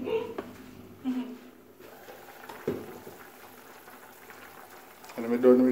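Chicken pieces go into hot oil in a home kitchen during a fried chicken cook. A soft bubbling sizzle runs under people talking and rises into a louder crackle at the end.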